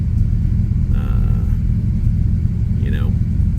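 An Avanti's engine drones as a deep, steady road rumble from inside the moving car, with brief higher tones and a passing whine over the constant low noise.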